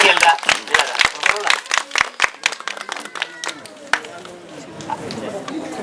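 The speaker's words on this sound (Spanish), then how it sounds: "vamos a recibir con un fuerte aplauso a nuestro historiador, Rolando Pachas" A small audience claps in welcome for a historian at a hacienda, with brisk, close clapping that thins and fades over a few seconds as murmurs remain.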